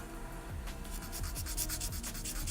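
Coarse 240-grit sandpaper rubs a nub on a plastic model kit part in quick, close scratchy strokes that speed up into a steady rhythm.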